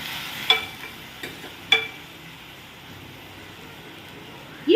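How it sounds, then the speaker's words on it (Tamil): Mint leaves sautéing in a pan for mint chutney, a soft low sizzle broken by a few sharp clinks of a spatula stirring against the pan, with a louder scrape at the end. "இதை நல்லா வதக்கிக்கோங்க."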